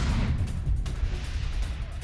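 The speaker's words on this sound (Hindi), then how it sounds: "खेरसॉ में आर्टिलरी से भीषण हमला हुआ।" Artillery fire during a heavy attack in Kherson in the Russia-Ukraine war: a dense, continuous low rumble with heavy booming bursts, loud throughout.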